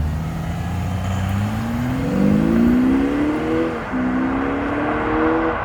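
A modern Audi SQ5 TDI diesel engine runs with a smooth, steady hum that climbs gradually in pitch as it revs, eases off briefly and then rises again. Nobody talks.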